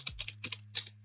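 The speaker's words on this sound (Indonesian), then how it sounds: "kemudian kita ketik" Quick, light clicks of typing on a computer keyboard: about a dozen crisp keystrokes in a fast, uneven burst, close and fairly quiet.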